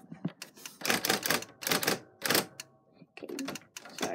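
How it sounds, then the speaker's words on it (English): A typewriter types in close, irregular clusters of sharp mechanical keystrikes and clacks, with short pauses between bursts. "I'm gonna type something."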